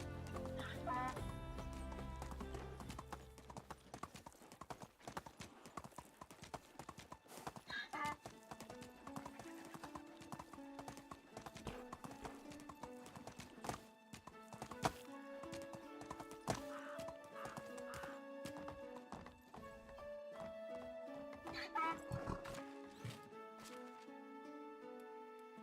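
Steady clip-clop of horse hooves under a rider in the medieval game Medieval Dynasty, a regular rhythmic trot running throughout, with an occasional whinny, distant chicken clucks and soft background music.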